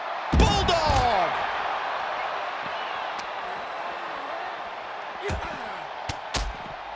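A bulldog slam in the wrestling game WWE 2K24, a sharp heavy impact near the start followed by lighter thuds later, with an excited commentator talking over a steady crowd murmur.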